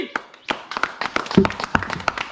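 Hand clapping from a group of people during a balloon-popping game played by Ludo dice numbers, short irregular claps close by with voices talking over them.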